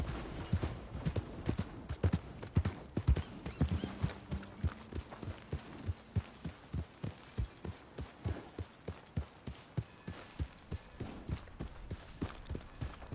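Steady horse hooves clip-clopping at a brisk, even trot in the video game Red Dead Redemption 2, crisp and close, continuing without pause over a faint background.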